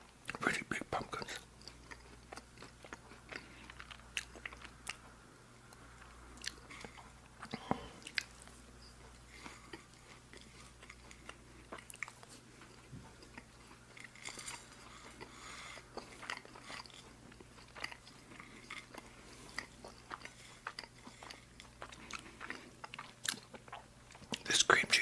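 Someone close to the mic eats cake topped with cream cheese icing and coconut, with soft wet chewing and small crunches running under quiet whispered talk.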